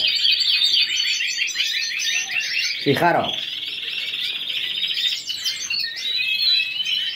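Many caged birds, males and females housed together, chirp and trill rapidly in a dense, bright chorus close by, with one sharp call cutting through midway; a voice speaks briefly.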